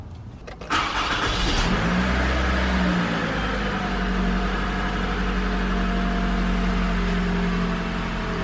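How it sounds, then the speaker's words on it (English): A Toyota Camry XV50 engine cranks and catches after a camshaft position sensor replacement, then settles into a steady, smooth idle with a low constant rumble that continues unchanged. "So we started the car, it's running smooth"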